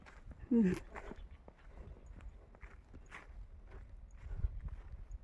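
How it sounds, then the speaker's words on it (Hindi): Cows and buffaloes plod along a forest trail in Uttarakhand, giving a soft, uneven run of hoof steps under scattered nearby talk, with one brief louder knock near the start. "यहाँ गाय भैंस चल रहे हैं"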